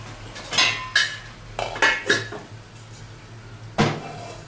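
A kadai and kitchen utensils clatter as the wok is set back on the stove while kadai chicken is cooked: several sharp metallic knocks and scrapes in quick, irregular bursts, close by, with no talk.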